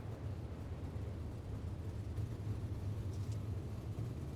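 UMP modified race cars running under the lights at Lucas Oil Speedway, a continuous dense roar of engines heard from a distance, steady and loud throughout.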